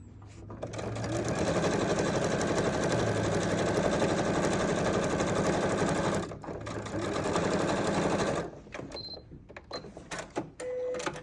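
A quilting sewing machine stitches down a perfect binding on a quilt in a long, steady, rapid mechanical run, stops briefly, then runs again before a few light clicks and handling noises.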